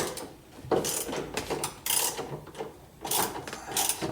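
Ratchet clicking in short bursts while steering column bolts are loosened on a 1976 Corvette restomod; about five brief spells of rapid mechanical clicks close by, with quiet pauses between them and no talking.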